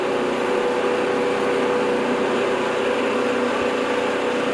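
A snow blower engine runs steadily with the drive in third gear, a moderate, even mechanical hum with a brief low thump near the end and no voices.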